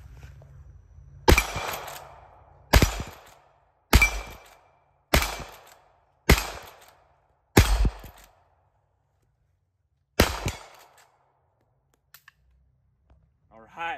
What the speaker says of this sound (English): We're gonna see just a few shots here on the plate rack and then a couple on a long distance flasher, see how this thing runs.